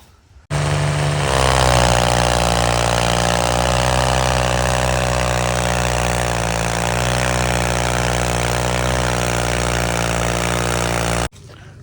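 A tractor engine idles at sugarcane harvest time, a loud, steady, close rumble that starts abruptly and runs evenly before cutting off near the end, with no voices over it.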